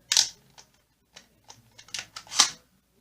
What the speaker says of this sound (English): When you prime it, it's got a bit of a ratcheting sound.